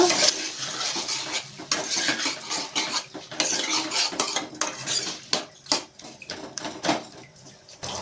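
About half a kilo of finely chopped tomatoes is stirred into oil in a pan, with repeated scraping and clinking of a utensil against the metal over a wet, sizzling background. The strokes come close and fairly loud, and no one talks.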